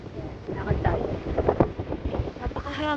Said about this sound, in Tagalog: Napakahangin. Diyos ko, ang lamig pa.